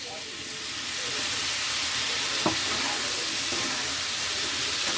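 Green chilli and garlic paste added to a hot pan alongside Kashmiri red chilli powder, giving a steady, even hiss that holds throughout with one faint clink near the middle.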